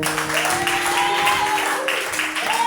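A church congregation applauds at a Sunday service, a steady, loud wash of clapping that runs throughout, with sustained music or voices underneath.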